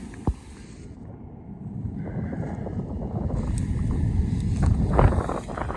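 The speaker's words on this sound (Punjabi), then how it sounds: "ਵਿੱਚ ਹਵਾ ਦੀ ਆਵਾਜ਼ ਆਉਂਦੀ ਹੈ ਨੇਰੀ ਚੱਲੀ ਜਾਂਦੀ ਹੈ" Wind blows steadily across an open farm field at harvest time, a low rumbling rush of buffeting against the microphone that swells slightly over the clip, with no voices.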